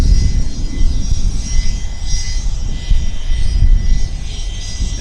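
A business jet at Vancouver Airport produces a loud, continuous engine roar, rough and steady throughout, with no voices.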